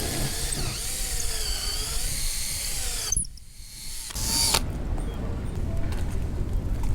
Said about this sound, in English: began preparing for drilling operations. All right, here I go.